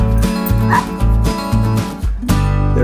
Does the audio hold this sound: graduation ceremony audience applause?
no